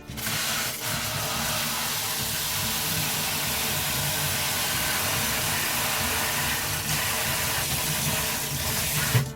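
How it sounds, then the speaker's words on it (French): Hot water runs steadily into a container holding lanolin soap, a continuous loud hissing pour that stays even from start to finish. "Je mets un fond d'eau chaude avec mon savon de lanoline."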